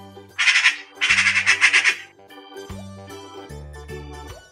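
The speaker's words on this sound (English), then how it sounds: "Magpie." A magpie gives harsh, rattling squawks in two loud bursts, followed by softer tinkling musical accompaniment and low tones.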